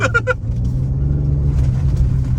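A Ford Ranger Raptor V6 pickup rumbles steadily at low revs in four-wheel drive off-road, a deep, continuous engine drone heard from inside the cab, with a brief voice at the very start.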